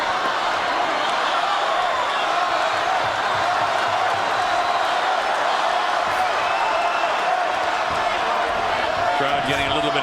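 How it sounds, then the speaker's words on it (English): A boxing arena crowd at a world title fight between Terence Crawford and Dierry Jean, a steady loud roar of restless murmuring and scattered shouts with a commentator talking over it throughout. "Crowd getting a little bit antsy for Bud Crawford to turn it up and take this guy out."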